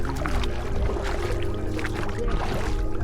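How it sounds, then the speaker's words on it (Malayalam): A boat moves across crocodile-inhabited water on the way to Veettikunnu Island, giving a steady, close motor hum with faint splashing water and no talk. "ബോട്ടിലേക്ക് കയറിയിരുന്ന് ബോട്ടിങ് തുടങ്ങിയപ്പോഴേക്കും"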